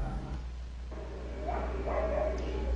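Dogs bark and yip faintly in the distance at dawn in Port-au-Prince, a few short calls rising over a low, steady city hum.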